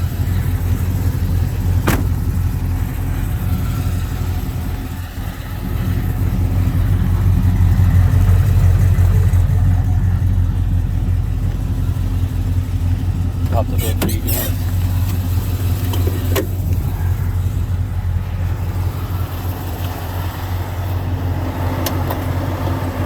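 Supercharged 1996 Chevrolet Impala cruising, its mid-pitched engine drone and road rumble steady and close from inside the car, swelling slightly mid-ride, with a few faint clicks and knocks over the top.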